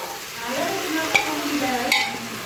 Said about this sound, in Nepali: अनि यो चाहिँ टमाटर हाल्ने। यसरी चलाउने यस्तो मजाले।